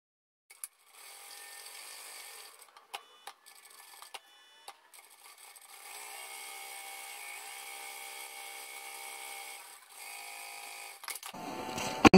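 A sewing machine runs steadily as it stitches a long straight seam through fabric for a baby nest, starting with a few short bursts before settling into a continuous close-up whir with brief pauses.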